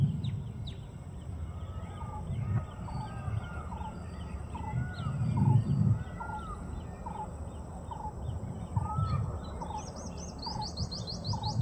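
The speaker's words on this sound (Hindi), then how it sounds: "नेचर की आवाज़ को महसूस कीजिए। चिड़िया, कोयल, मोर," Outdoor nature ambience with many birds, including repeated rising chirps and calls over a low steady background, a rooster-like call and a high trilling burst near the end, all fairly distant.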